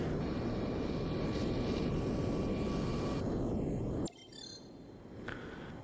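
A drone hums overhead in a base-building game, a steady loud engine-like drone that cuts off abruptly near the end, followed by quieter game noises.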